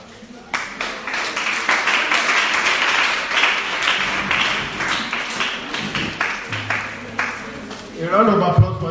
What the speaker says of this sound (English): A round of applause for him once again.